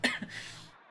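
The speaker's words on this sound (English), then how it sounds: "she kind of looks to the side for a second and kind of coughs" A female video game character gives a single short cough, a sharp burst followed by a softer second hack that trails off, close and fairly quiet.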